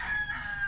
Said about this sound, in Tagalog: mga alagang manok at pabo